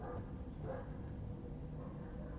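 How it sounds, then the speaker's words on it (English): Many neighborhood dogs bark at once from a distance, a faint, dense overlapping chorus of yips and barks running steadily throughout with no pauses. "Can you guys hear all the neighborhood dogs? They're all barking."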